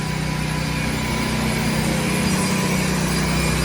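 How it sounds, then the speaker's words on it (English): A handheld grinder works a concrete floor, its motor droning at a steady high pitch with constant gritty abrasion, loud and close with no pause. "Now they're hand grinding this, right?"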